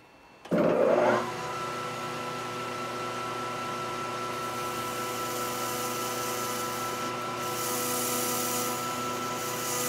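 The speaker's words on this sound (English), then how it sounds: "we're just going to part this guy off" A metal lathe parts off an aluminum camera lens adapter, starting with a sharp cutting burst and then settling into a steady, close whirring machine hum with tonal layers that continue throughout.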